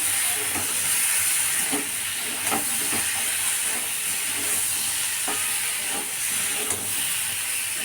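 Pointed gourd and potatoes with chilli powder and vegetable spice being sautéed in a pan, giving a steady hiss and sizzle with scattered clinks and scrapes of stirring throughout, close and fairly loud, with no talking.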